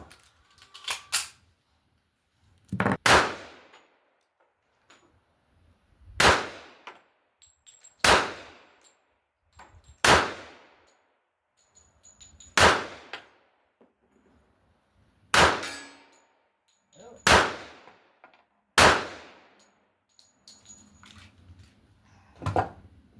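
A 1911 pistol fires several rounds at steel targets: sharp, loud shots spaced every two to three seconds, each followed by a ringing metallic clang, with no speech.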